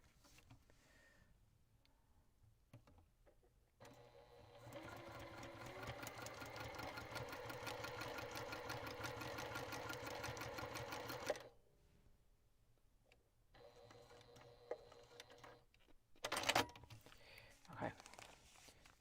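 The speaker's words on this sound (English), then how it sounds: "And again, I'm going to sew on the line." A sewing machine stitches fabric pieces for a thorny plant craft in one steady, close run of about seven seconds, followed by quieter handling noises and a few clicks.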